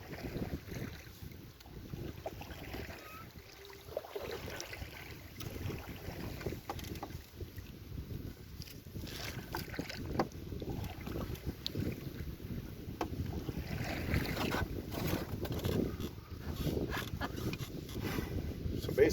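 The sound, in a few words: wind blowing while paddling on Marten Lake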